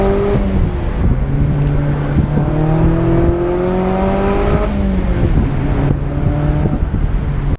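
Engine and exhaust note of a Mazda MX-5 ND fitted with a Fox exhaust while driving: a steady, close drone that rises and falls in pitch through gentle acceleration and gear changes, with no voices.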